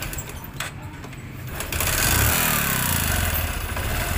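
A Suzuki Raider motorcycle engine running after a drain plug bolt repair, a close, steady mechanical drone that grows louder and fuller partway through, with a faint voice underneath.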